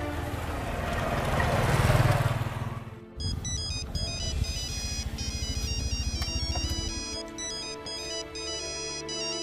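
A phone ringtone plays loudly as a repeating electronic melody, following a burst of rushing noise.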